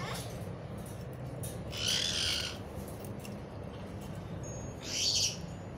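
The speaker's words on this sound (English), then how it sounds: "And we have the parakeet." A pet parakeet gives two short bright calls a few seconds apart, standing clearly above a steady low background hum.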